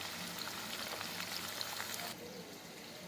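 Turmeric-coated meat pieces fry in a pan, giving a steady fine crackling sizzle that drops to a softer hiss near the end, quiet and close with no talk.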